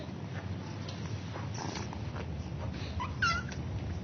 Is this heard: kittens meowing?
yes